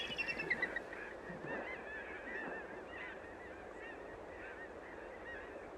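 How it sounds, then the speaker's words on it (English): A flock of geese honking repeatedly, several birds calling over one another at a moderate distance, with a few louder honks at the start. "Magnificent flocks of ducks and geese are a thrilling sight at both refuges."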